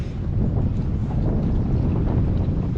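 Steady wind gusting across a northern lake on a fishing trip, a constant low rumble buffeting the microphone with no letup throughout.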